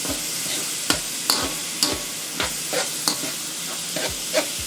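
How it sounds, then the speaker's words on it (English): Pork fried rice with ginger and garlic in hot oil is stirred in a pan: repeated scraping strokes, loud and close, over a steady sizzle, with no talking. "we're just gonna give everything a stir"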